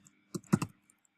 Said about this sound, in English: I'll just start typing.